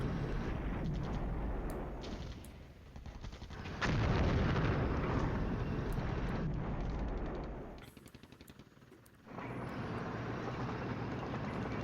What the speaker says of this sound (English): they're taking another artillery bombardment